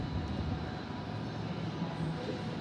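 A Yanchep line train pulling away from a station platform, a steady broadband rumble and rolling wheel noise held at an even, moderate level, with no talk.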